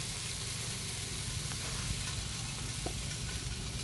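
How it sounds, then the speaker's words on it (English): A bun toasts in butter on a Blackstone griddle, giving a steady, close, even sizzle with faint crackles throughout and no talking. "And we'll let that get a good sizzle on there."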